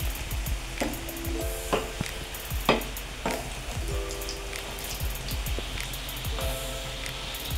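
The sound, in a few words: egg noodle patty frying in a pan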